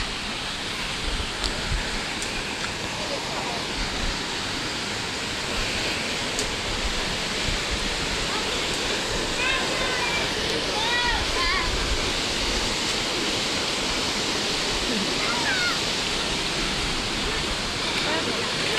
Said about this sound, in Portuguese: Cachoeira de Biguá.